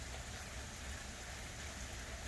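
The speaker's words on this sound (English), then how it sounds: "72 degrees and a light rain." Light rain falling on a mild 72-degree day, a faint, even patter that stays steady and continuous throughout.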